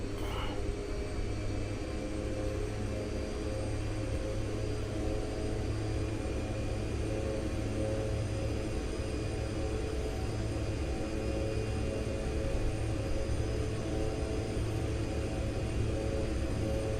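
A fixed-wing airplane's engine holds a steady, dense drone at full throttle for the takeoff roll, a constant close rumble with tonal whine that stays level throughout and has no voices over it.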